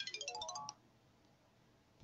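A mobile phone ringtone for an incoming call plays a short, bright melodic pattern for under a second, then stops and leaves a quiet room with faint background noise.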